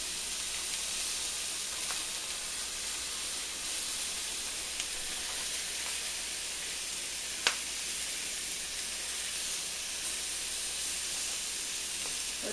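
Pork chops frying in a pan on lowered heat while being flipped, a steady even sizzle and hiss throughout with a few faint clicks and one sharp tap partway through.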